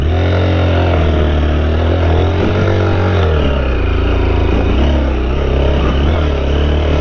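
A 2025 Honda XR 190L motorcycle rides across sand, its engine droning loud and steady up close with a constant rumbling hum and slight variations in pitch throughout.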